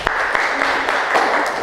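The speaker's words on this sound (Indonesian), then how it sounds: "tepuk tangan untuk Mbak Umi" Classroom of students clapping for a classmate after her answer in a science lesson; a short, brisk burst of group applause with a few sharp individual claps, fairly close and fading quickly.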